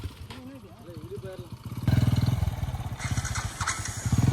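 A motorcycle engine putters unevenly under shouted talk in Kannada, then grows louder and rougher with a rapid thumping beat as voices continue on a ride to Male Mahadeshwara Hills.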